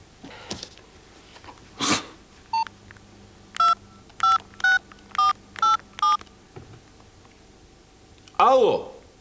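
A telephone number is dialed by hand: about eight short, evenly spaced keypad tones play one after another, with a few louder clicks and shuffles before and a voice breaking in at the end.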